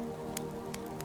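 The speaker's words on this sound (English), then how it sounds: "Outside, the rain maintains its steady, soothing pattern, a soft percussion" Steady rain falls outside, a soft, even patter with a few sharper drips ticking over a constant low wash.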